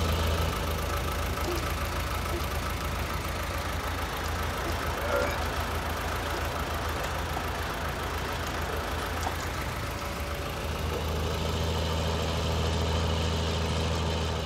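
A tractor engine idles in Farming Simulator 19 with a steady, even low drone that holds at a constant level throughout and barely changes pitch.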